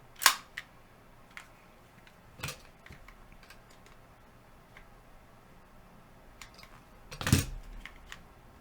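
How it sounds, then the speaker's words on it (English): Sharp, isolated clicks from the trigger of a budget 9mm compact pistol being dry-fired. There are a few crisp snaps with quiet gaps between them, close-up and fairly loud against near silence, and a louder click near the end. "See what the trigger pull is."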